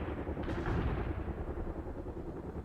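Artillery fire in the strategy video game World in Conflict, a continuous rumbling barrage of low booms and crackling gunfire blended into a heavy, sustained roar.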